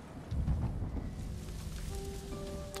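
A storm in Ghost of Tsushima rolls in over a thick bamboo forest: a low thunder rumble swells early, then a soft, steady hiss of rain continues, faint and distant.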